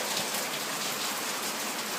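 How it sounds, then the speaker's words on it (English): Heavy rain pours outside in a dense, steady hiss of drops on surfaces, fairly loud and unbroken, with no voices. "It's raining!"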